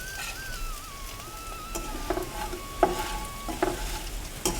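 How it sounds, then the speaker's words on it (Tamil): Taro (colocasia) pieces fry in a pan and are turned repeatedly, giving a soft steady sizzle broken by several distinct scraping and clinking stirs, with a faint whistling tone early on and no voices. "கொஞ்சம் நேரம் அப்படியே திருப்பி திருப்பி விட்டு செவக்க வச்சு எடுத்துக்கலாம்."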